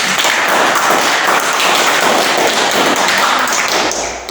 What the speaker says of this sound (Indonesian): beri aplaus dulu untuk kelompok 1